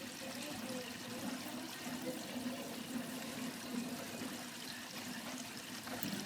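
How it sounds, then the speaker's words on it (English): Water flows steadily through the drain valve of a 200-gallon reef tank during a freshwater test, a quiet, continuous rushing and trickling with no voices. "Water is just flowing down there, no problem."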